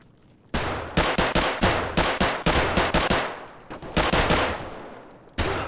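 Loud, close gunfire in Escape From Tarkov on the Factory map. Rapid bursts of sharp shots crack in quick succession, pause briefly, resume in another burst, and end with one final shot.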